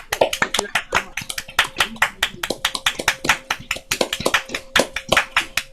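Close, crisp hand clapping from a small workshop audience applauding Jez after a pipe and tabor divisions session, a dense run of sharp claps with a faint steady tone underneath.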